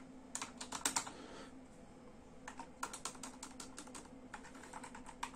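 Close, quiet typing on an SIS PS2 110-key multimedia keyboard, irregular clusters of crisp key clicks over a low steady hum, no talking.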